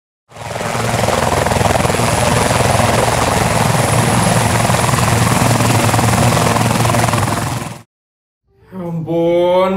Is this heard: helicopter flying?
yes